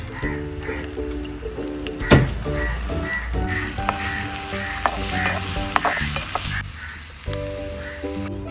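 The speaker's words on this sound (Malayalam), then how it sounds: "വെളിച്ചെണ്ണ ഒഴിച്ചു കൊടുക്കാം, ഇഞ്ചി ഇട്ട് കൊടുക്കാം, വെളുത്തുള്ളി ഇട്ട് കൊടുക്കാം," Ginger and garlic fry in coconut oil in a tiny pan in a miniature kitchen, giving a steady close sizzle with stirring scrapes and a sharp clack partway through. No one speaks.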